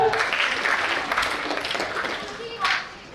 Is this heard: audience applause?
yes